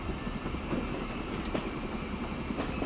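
Electric locomotive train running in the game Transport Fever, a steady rumbling rail roar with faint clicking wheel rhythm, continuous and fairly close, with no talking.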